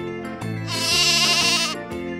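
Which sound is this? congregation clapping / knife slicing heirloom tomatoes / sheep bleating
sheep bleating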